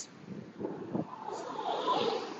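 Wind buffets a Vivo TWS Neo wireless earbud microphone outdoors near traffic, with low, uneven rushing and gusts that swell toward the end.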